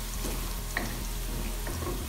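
Cumin and onions fry in oil for chicken karahi, giving a steady soft sizzle with faint stirring clinks, close and low, with no talking.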